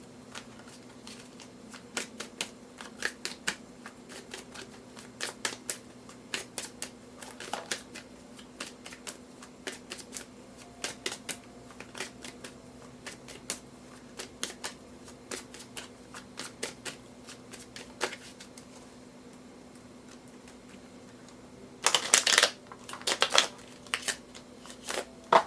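Tarot cards are shuffled by hand close to the mic, a steady scatter of soft riffles and light snaps with a denser flurry near the end, over a faint electrical hum.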